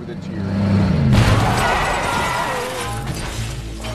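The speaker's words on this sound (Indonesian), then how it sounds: "karena benturan yang keras itu mobil klasik ini sampai ringsek" A car slams into a classic car, a sudden loud crash and shattering impact after an engine's approach, followed by rattling debris and lingering vehicle noise.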